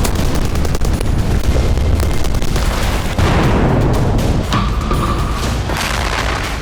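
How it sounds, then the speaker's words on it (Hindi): Bombardment in wartime Gaza, with Israeli strikes, fills the air as a loud, continuous roar of heavy booms and rumbling blasts, dense and unbroken throughout. "गाजा में इजराइल बमबारी कर रहा है।"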